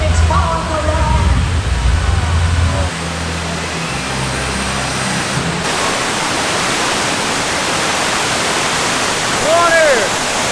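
Loud rushing and splashing water on a theme park water ride, a broad roar of spray with people's voices and shouts mixed in, steady throughout.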